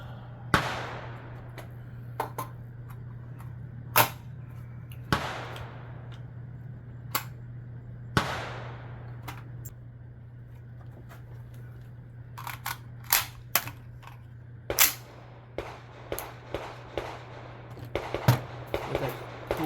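Gunshots from a B&T VERS36 5.56 rifle at a range, sharp loud cracks fired singly, then in quicker strings, over a steady low hum with no speech.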